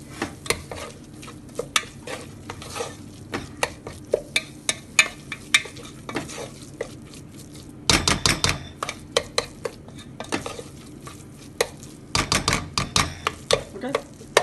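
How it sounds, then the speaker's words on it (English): Chole masala powder stirred into a pan for wedding-style chana masala: a spoon clatters and scrapes against metal in quick irregular bursts, with denser flurries of strokes partway through, close up and with no talking. "Mix properly."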